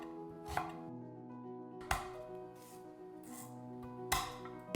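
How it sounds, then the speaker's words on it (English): A knife chops onions and ginger on a cutting board, three sharp, spaced strikes ringing out over gentle background music. "Roughly chop the onions, peel and chop the ginger."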